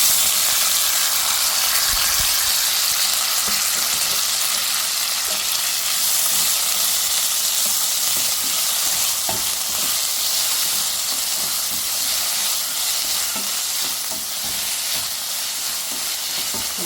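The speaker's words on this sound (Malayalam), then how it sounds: "കുറച്ച് ഓയിൽ ഒഴിച്ചു കൊടുത്തിട്ടുണ്ട് കേട്ടോ അതിലേക്ക് ഒരു സവാള ചെറുതായിട്ട് അരിഞ്ഞത് ഒരു തക്കാളി രണ്ട് പച്ചമുളക് ചേർത്ത് കൊടുക്കാം" Onion, tomato and green chilies fry in oil, a loud continuous bright sizzle and hiss close up, with scattered small crackles and light utensil scrapes throughout.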